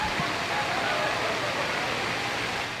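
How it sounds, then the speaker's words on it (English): An aqueous film-forming foam system on a Nimitz-class carrier's hangar deck sprays a foam-water mixture, a loud, continuous broadband hiss like rushing water that stays steady throughout. "This technique quickly deploys a foam-water mixture, which creates a thin coating over flammable liquid surfaces"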